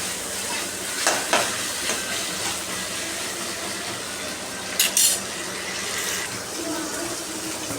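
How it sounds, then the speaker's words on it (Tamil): Okra being sautéed in a pan at home for sambar, giving a steady close sizzle and hiss with a few brief scraping clatters from stirring. "அப்போ இந்த வெண்டைக்காயும் போட்டு ஒரு வதக்கு வதக்கு எடுத்துடணும்"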